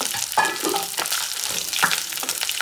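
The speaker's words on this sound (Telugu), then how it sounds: "సో ఇప్పుడు మనం వేయించి పెట్టుకుని దొండకాయలు వేసుకోవాలి." Ivy gourd pieces frying in oil in a pan, a close, steady sizzle with a few sharp crackles and stirring scrapes.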